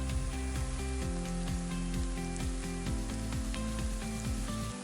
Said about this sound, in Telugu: కుక్కర్ తీసుకొని అందులో కొంచెం ఆయిల్ యాడ్ చేసి కట్ చేసి ఉంచుకున్న ఆనియన్ అండ్ పచ్చిమిరపకాయలను యాడ్ చేసి మంచిగా వేపుకోండి.